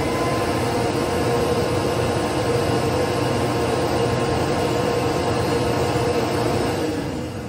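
A shop vacuum runs through a homemade bucket dust collector at a router station, making a loud, steady broadband roar that holds evenly from start to finish with no voices.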